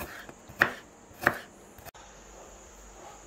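A knife chops garlic on a board with two distinct, sharp strikes about half a second apart, close up, followed by a low steady hum.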